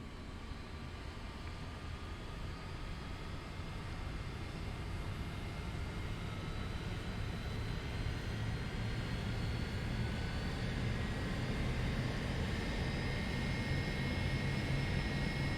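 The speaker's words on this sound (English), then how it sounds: "So let's go ahead and start engine 2 because it does supply the majority of the power to the aircraft." A simulated airliner's second engine spooling up in a flight simulator, a steady broadband roar with rising tonal whine that holds loud and continuous throughout, with no talking.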